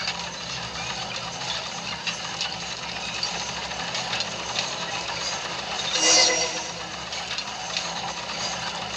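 A train running in Genshin Impact, heard as a steady mechanical clattering rumble throughout, with one brief louder surge near the end.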